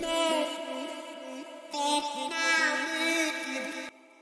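Tropical house vocal chop processed with Little Alter Boy formant shifting, a bright, airy pitched vocal figure with altered timbre repeating in short syllables over two phrases before cutting off, alone with no talk.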